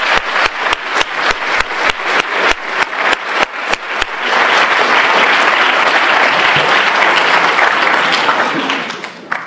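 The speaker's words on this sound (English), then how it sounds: "if we can give them a round of applause for giving up their time this evening" A few scattered claps open, then swell into full, loud, sustained applause from a debate audience at a law society debate, fading at the very end.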